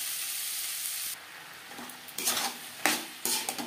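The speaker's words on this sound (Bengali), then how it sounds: "লবণ হলুদ দানার সাথে বেশ ভালো করে মিক্স করে দেবো।" Salt and turmeric stirred into bean seeds in a hot pan, giving a steady sizzle with scraping spoon strokes that grow louder toward the end, close and without speech.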